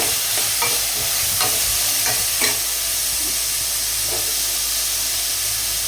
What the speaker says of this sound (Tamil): இப்போ நம்ம கட் பண்ணி வச்ச வெங்காயத்தை போடுவோம் வெங்காயத்தை போட்டு கொஞ்சம் நல்லா வதக்கிக்கோங்க